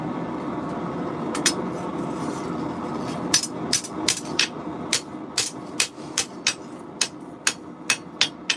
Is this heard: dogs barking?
no